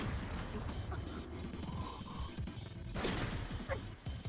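Gunfire in a Chainsaw Man anime episode, heard as sharp cracks and impacts in the mix over a busy, muffled background with voices.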